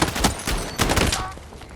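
Shotgun gunfire in the video game Battlefield 6: two or three close, loud blasts in quick succession, each with a short ringing tail, and no talk over them.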